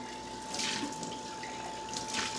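Liquid is dumped from a jar into a sink, a steady rushing pour of water with a couple of louder splashing surges, close and alone without talk.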